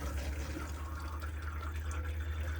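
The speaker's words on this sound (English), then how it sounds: "come over to the sink and just draw the water through on the cold side first." Cold water runs steadily from the sink tap in an Elddis Autoquest 155 motorhome, fed by the onboard pump, with a constant low pump hum beneath it and no talk.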